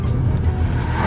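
Steady rumbling road noise from cars rolling past nearby, a continuous whooshing hum with no voices.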